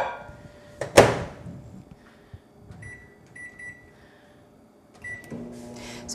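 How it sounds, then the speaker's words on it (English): A microwave oven set on high heats broth in a mug: a loud door thud, a short run of keypad beeps, then a low steady hum, all close by with no talking. "I'm going to microwave that on high for the 2 minutes"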